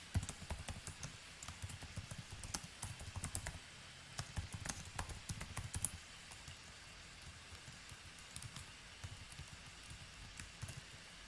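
Close computer keyboard typing, quick irregular clicks of keys in bursts and pauses, quiet and with no one speaking.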